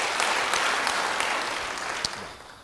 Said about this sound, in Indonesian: Yang percaya beri tepuk tangan bagi Tuhan.